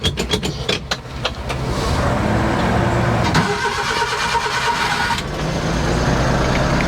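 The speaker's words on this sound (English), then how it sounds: "Let's start the truck up." A truck engine cranks with a rapid burst of starter clatter, catches, and settles into a loud, steady idle that runs close by, with a brief dip in level before the rumble resumes.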